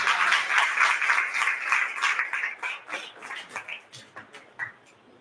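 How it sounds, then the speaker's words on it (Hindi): Clapping at a Hindi church worship service, dense at first then thinning into scattered, uneven claps that fade toward the end, with no speech over it. "तालियां बजा के दो।"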